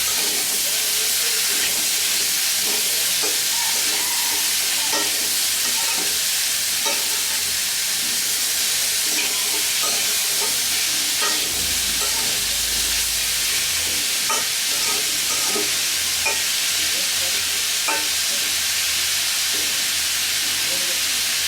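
Pumpkin with black cumin seeds frying in a pan, a steady broadband sizzle with scattered scraping stir strokes and a brief low rumble midway, continuous and close throughout.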